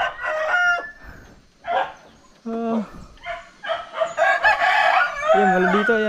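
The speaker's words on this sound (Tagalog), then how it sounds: "may mga manok sila dito" Chickens in a wooden-plank coop on a mountain crow and cluck in short, loud bursts close by, with a dog barking among them.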